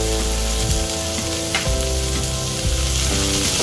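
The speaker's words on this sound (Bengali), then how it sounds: "এবারে প্রত্যেকটা সবজি একটু ভালো করে ভেজে নিতে হবে" Chopped carrot, beans, chilli and peas frying in oil with onions in a pan, a loud continuous sizzle with occasional stirring scrapes, no talk.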